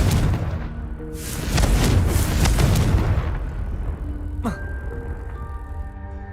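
In the Hogwarts Legacy game, a Confringo blasting spell goes off as a loud, rumbling explosion with a booming burst that swells for a couple of seconds. A sharp magical zing and lingering tonal effects follow.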